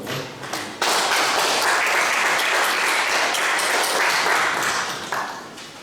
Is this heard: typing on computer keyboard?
no